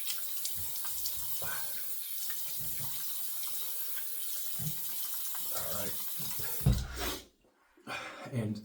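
Water runs steadily from a tap into a sink as a face is wetted before a shave, a continuous close rush with splashing bumps, cutting off abruptly near the end before a brief resumption.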